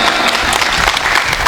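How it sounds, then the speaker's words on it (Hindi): Audience applause at a Hindi comic poetry gathering (hasya kavi sammelan), a dense, steady wash of clapping from a large crowd filling the whole short stretch at full loudness. "एक बार जोरदार तालियां।"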